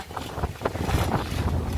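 Strong headwind gusting against a cyclist climbing a 2 km mountain road, a loud continuous roar of wind buffeting the microphone with surging, uneven gusts throughout.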